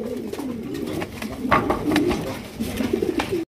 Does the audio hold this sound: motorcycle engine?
no